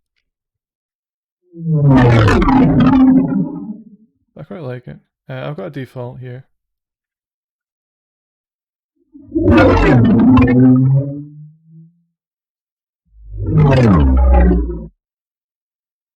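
Three harsh, distorted whooshes processed in Reaper surge and fade one after another, each a loud roaring burst, with someone briefly talking between the first two.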